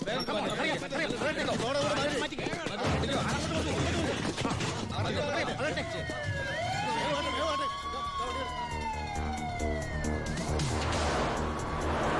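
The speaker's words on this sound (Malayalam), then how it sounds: "ഏത് നിമിഷം അവിടുന്ന് ഫയർ എഞ്ചിൻ വരും." A fire engine siren approaches at a road checkpoint, its wailing tone rising and falling over busy background noise and several voices talking, and it grows clearer toward the end.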